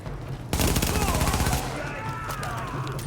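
A rapid burst of automatic gunfire rattles close by for about a second in The Division, a video game, during a mission at a field hospital, then fades into quieter game ambience while a voice talks.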